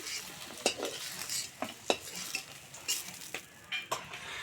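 Fried eggplant pieces being lifted from the pan into another vessel for an ilish begun jhol, with scattered sharp metal clinks and scrapes of a utensil over a soft background sizzle, close and fairly quiet.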